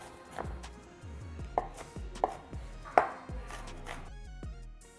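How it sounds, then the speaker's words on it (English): Shallots rough chopped with a knife on a cutting board, a run of sharp, close thuds at an uneven rhythm with a few louder strikes, no speech. "Get a little rough chop on all these."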